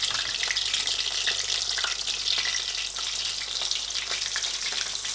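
Food for Japanese curry frying in hot oil, a loud, dense, continuous sizzle with crackling pops throughout, close up and alone.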